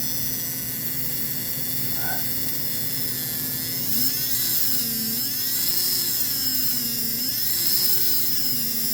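Motor of an American Flyer Alco diesel model locomotive, converted to DC and running unlubricated, gives a steady high electric whine with a faint wavering hum, close and continuous, and there is no talking over it.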